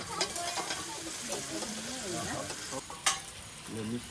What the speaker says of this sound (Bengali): ভেজে রাখা আলুগুলো এই মশলার উপরে দিয়ে